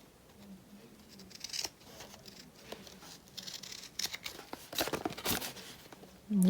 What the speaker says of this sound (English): I'm using these Tim Holtz scissors.